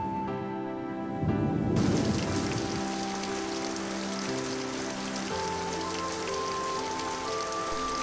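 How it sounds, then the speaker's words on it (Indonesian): Steady heavy rainfall breaks in after a second and continues as a dense, even hiss of drops on surfaces, with soft music running underneath and no talk. "Wah, kayaknya sebentar lagi hujan nih."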